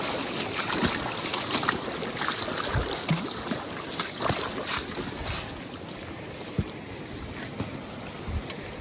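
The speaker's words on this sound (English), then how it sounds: "pretty cold glacial water and it's moving pretty quick" Fast-moving cold glacial river water rushes steadily in New Zealand backcountry, a dense continuous roar close to the microphone with gusts of wind buffeting it.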